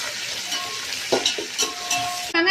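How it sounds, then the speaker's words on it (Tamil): Onion and green chili sautéing in hot oil for a banana-leaf chicken biryani give a steady close sizzle, broken by a few scraping stirs and a sharper burst near the end. "வெங்காயம் பச்சை மிளகாய் போட்டு வதக்கலாம்."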